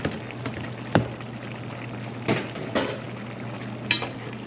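Carrots and Irish potatoes are stirred in a cooking pot, a low steady bubbling bed broken by a few sharp clinks and scrapes of the spoon against the pot, with no talk.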